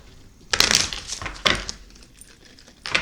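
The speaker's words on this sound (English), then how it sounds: "I'm going to shuffle these one more time." A few quick papery riffles and snaps of cards being shuffled, in short bursts with brief pauses between, close by and fairly quiet.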